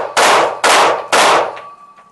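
Three loud, sharp pistol shots fired one-handed during strong-hand and weak-hand shooting practice, evenly spaced about half a second apart, each with a long ringing decay, followed by a faint lingering tone.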